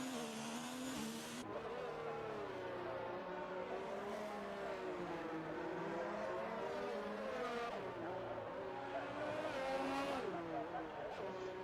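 Ferrari race car in a racing video game threading the Nouvelle chicane at Monaco, engine note rising and falling steadily through the corner with tonal revving throughout, with no talk over it.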